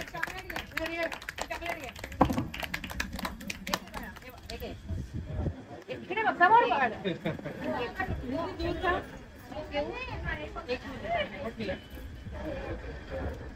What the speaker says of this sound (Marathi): शुभश्री साठी जोरदार टाळ्या झाल्या पाहिजेत.